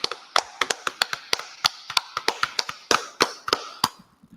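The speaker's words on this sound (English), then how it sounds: "All right, clap it up." A small group claps at a religious law class in Harlem, New York, in irregular, sharp separate claps that thin out and stop near the end.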